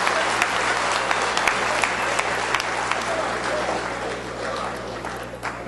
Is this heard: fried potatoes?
no